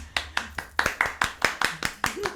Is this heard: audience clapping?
yes